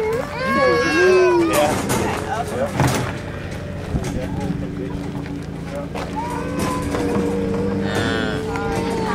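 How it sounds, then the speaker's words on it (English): Young calves on a farm low and moo in several drawn-out calls, near and fairly loud, with people talking over and between them and a faint engine-like hum beneath. "Checking out the baby cows."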